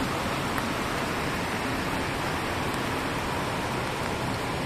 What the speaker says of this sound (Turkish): Şimdi hava çok bozuk. Sis var, yağmur var.